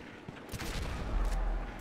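Grenade launcher firing in GTA 5, a fairly faint burst of rapid gunfire-like blasts swelling toward the middle of a short stretch, with no talk.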